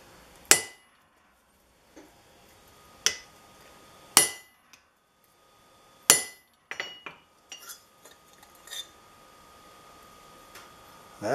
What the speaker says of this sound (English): Nice firm hits with a hammer.